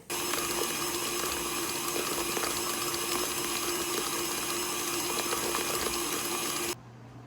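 Electric mixer whirring steadily while flour, salt and baking soda are added to cookie dough, a loud continuous hum with a faint rattle that cuts off abruptly near the end.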